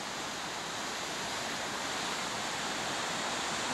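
Floodwater roars through a spillway at about 3,500 CFS during the 1996 Mill Creek flood, a dense, steady rushing wash that fills the whole clip without a break, loud and close.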